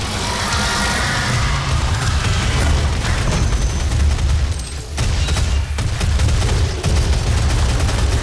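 Combat shotgun blasts in Doom amid dense game action, loud booming gunfire and explosions packed in rapid succession across the whole stretch, with barely a pause between shots.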